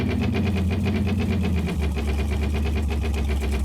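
A worn old truck engine idles steadily and loudly up close, a rhythmic pulsing rumble with a slight knocking character and a brief dip in pitch partway through.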